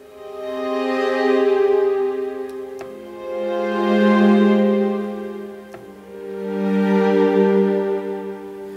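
Sustained string ensemble chords swell up from near silence and fade away three times in slow, wave-like crescendos and diminuendos. The strings are close and clear, with no voices.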